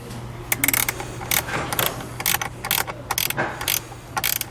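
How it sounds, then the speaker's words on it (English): A ratchet wrench tightens a nut while a hidden hitch receiver is installed on a 2017 Audi Q, giving bursts of quick, close metallic clicking strokes with short pauses, over a low steady hum. "Take this, go right around the nut, and then we'll tighten the nut back down"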